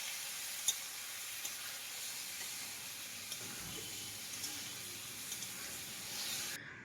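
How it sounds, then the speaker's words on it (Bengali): Spice paste for a fish curry sautéing in a pan with a little water, giving a steady, even hiss of sizzling that stays loud and close throughout and cuts off at the very end, with no talk. "সামান্য পরিমাণে জল দিয়ে এবার মশলাটা কিন্তু খুব ভালো করে কষাতে হবে।"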